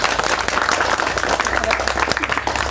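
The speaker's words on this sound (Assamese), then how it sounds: "যদি টেষ্টাৰটো জ্বলে চবে হাত চাপৰি দিবা" Students in a classroom physics demonstration break into applause, a thick, continuous patter of many hands clapping at close range, fairly loud and even throughout, with no voices standing out.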